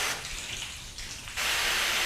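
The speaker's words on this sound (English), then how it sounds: "look at the way that water is hitting" Water from a hose sprays steadily onto a waxed car panel, a continuous hiss that dips midway and then returns stronger, close to the listener.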